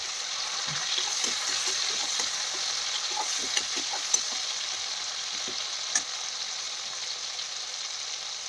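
Mixed vegetables fry in hot oil in a home kitchen while a spoon stirs them, giving a steady close sizzle broken by soft scraping strokes and a few sharper clicks against the pan.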